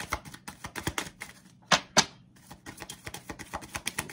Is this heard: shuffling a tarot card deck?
yes